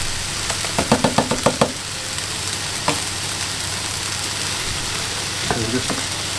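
Chopped chicken and ham sizzle steadily in a pan, a dense frying hiss broken by a quick run of sharp spatula knocks against the pan and a few later taps.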